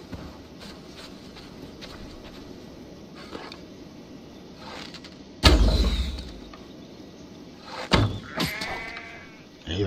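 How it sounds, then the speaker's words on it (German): White sheep bleating in the game Assassin's Creed Valhalla, several nasal bleats over a soft ambient bed, with a loud sudden thud midway and another sharp knock later. "was ist das für ein weißes Schaf?"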